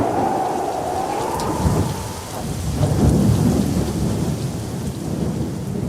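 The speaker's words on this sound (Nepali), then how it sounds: "त्यसपछि पानी पर्न थाल्यो।" Heavy rain pours steadily during a great flood, with deep thunder rumbling and swelling beneath the downpour; loud and continuous throughout, with no voices.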